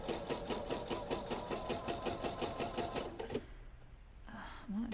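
A home sewing machine stitches along the raw edge of fabric for Simplicity 2481 pants, running in a fast, even mechanical rhythm for about three seconds before stopping abruptly; a voice speaks over it as it runs and after it halts.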